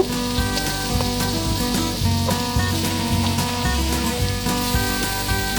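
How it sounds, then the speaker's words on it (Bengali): Beef pieces dropped into a pot of cut potatoes sizzle steadily, a dense crackling frying hiss running throughout with occasional clatters and stirring knocks close by. "এরপর আমি মাংসগুলো পাতিলের মধ্যে দিয়ে দিলাম"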